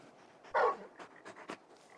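Torgal, the big wolf-like dog in Final Fantasy XVI, gives a short, close yip or bark, then several quick panting huffs and faint whimpers, quiet apart from the one louder burst.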